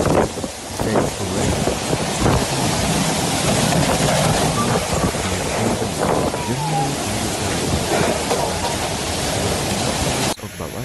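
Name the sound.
strong waves crashing against sea walls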